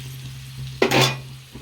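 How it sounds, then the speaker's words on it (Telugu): Mutton frying with tomatoes in a pan is stirred once, a sharp scrape and a quick rush of sizzle over a low steady hiss of cooking. "టమాటా వేసేస్తున్నాం, తిప్పుకుందాం."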